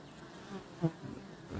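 Honeybees at the hive entrance during drought, a steady soft buzzing hum of many insects close by, faint, with one brief louder pass of a bee near the microphone.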